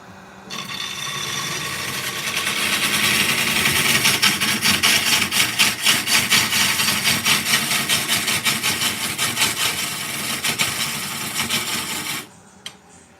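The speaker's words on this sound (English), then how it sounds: "I'll probably use the CBN and sharpen up this a little bit" Woodturning tool being sharpened on a CBN grinding wheel, giving a loud, steady grinding rasp that holds for about twelve seconds with rapid scraping pulses, then stops abruptly.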